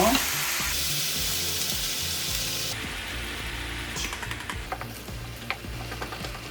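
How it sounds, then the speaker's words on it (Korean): Minced meat with sugar stir-fries over medium heat, a loud continuous sizzle at first that settles into softer frying under repeated spatula scrapes and taps. "중간 불로 볶으시면 돼요"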